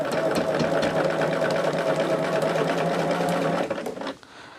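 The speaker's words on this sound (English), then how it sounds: "So I'm going to baste at a 1/4 of an inch." A sewing machine runs a basting stitch at a 3.5 stitch length along a scant quarter-inch seam on scrap fabric, a steady close whirring hum for about four seconds before stopping.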